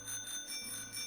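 A single bright ring of the bicycle bell in Pokemon Sword/Shield, a short chiming tone with a sustained metallic shimmer, heard alone.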